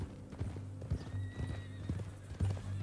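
Horse hooves clip-clop at an even walking pace in Red Dead Redemption 2, several close, crisp beats with no speech over them.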